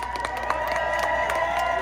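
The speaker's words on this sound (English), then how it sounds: "Can we get a round of applause?" Crowd at a community gathering applauds and cheers in a dense, steady wash of clapping with scattered shouts, moderately loud and continuous throughout.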